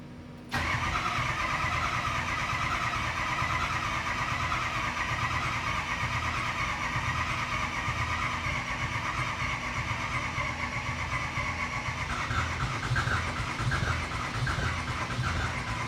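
Ford 6.0 Powerstroke diesel engine cranking over continuously and struggling to start, a steady, loud churning drone that holds for the whole stretch with a slight shift in pitch near the end.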